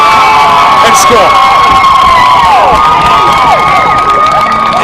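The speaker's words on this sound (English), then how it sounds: "the crowd really going wild here in Bedford as the Bulldogs take their first lead of the game" Loud crowd at a girls high school lacrosse semifinal in Bedford roars, with high-pitched shrieks and whoops rising and falling over a steady din after a goal, continuous throughout.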